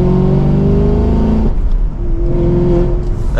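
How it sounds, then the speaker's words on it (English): A 2023 Chevrolet Camaro 2SS convertible accelerates hard, a loud, close V8 roar climbing steeply, breaking off briefly at an upshift, then pulling again with a deep, steady drone. "And with one last acceleration"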